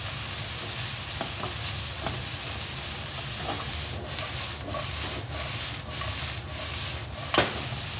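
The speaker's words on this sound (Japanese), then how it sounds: "もうちょっと炒めます。" Bean sprouts being stir-fried for yakisoba sizzle steadily in a pan, with a spatula scraping and stirring in repeated strokes close by.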